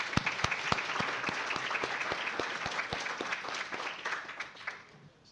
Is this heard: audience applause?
yes